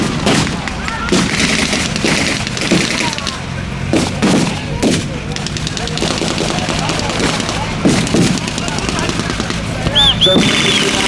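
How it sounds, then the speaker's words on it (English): Heavy gunfire and booming artillery are aimed at German vehicles on a World War II battlefield. Loud overlapping blasts and bursts are dense and steady, with some voices faintly mixed in. "Allied artillery is getting much more closer, much more accurate against the German vehicles on the field."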